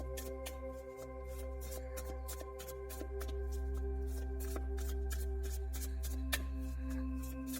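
Tarot cards being shuffled by hand in a pick-a-card reading, a steady run of crisp riffling flutters and soft slaps that carries on throughout at close range with no talking.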